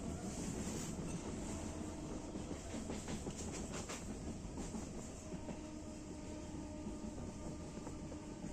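Local passenger train on the Howrah to Digha run, a steady loud rumble of wheels and carriage noise with faint rhythmic clatter throughout, no talking.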